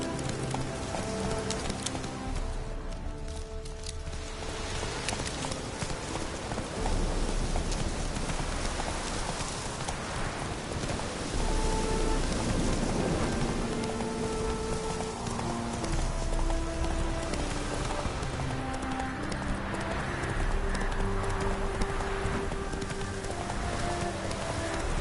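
Hooves of Roach, the horse in The Witcher 3, clip-clop in a steady galloping rhythm over a bed of ambient game music and rain-like hiss, continuous and moderately close throughout.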